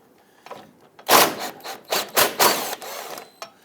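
A ratchet with an extension and 17mm socket loosens a fuel tank strap nut on a 2000-2006 Toyota Tundra, giving several loud, close, grinding bursts in quick succession after a couple of softer clicks.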